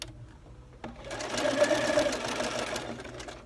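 Sewing machine stitching a scallop edge on a lace hem, starting abruptly after a quiet moment and then running steadily, close and loud, with no voices.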